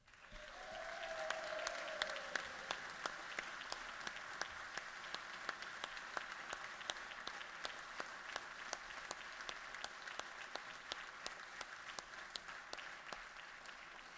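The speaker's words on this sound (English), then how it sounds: "I want to make sure that we give you a round of applause" Steady applause in a state legislative chamber for Guard members, a sustained wash of many hands clapping evenly for about fourteen seconds with crisp individual claps audible throughout, no talking over it.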